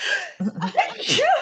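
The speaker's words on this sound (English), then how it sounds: "Thought I was going to sneeze." A person gives one sudden, close sneeze with a sharp burst of breath and a brief voiced tail. It is quick and fairly loud.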